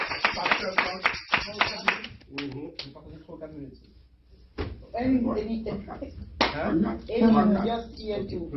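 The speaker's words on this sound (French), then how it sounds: "On acclame le serviteur, le pasteur" A church congregation claps for its pastor, with a burst of quick hand claps at the start and renewed applause later, mixed with voices and cheering.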